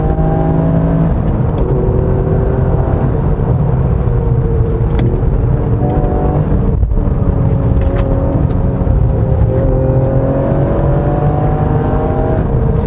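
A Toyota GR Yaris engine revs and pulls through the gears while driving on a winding mountain road, a loud continuous roar rising in pitch, dipping briefly at each shift.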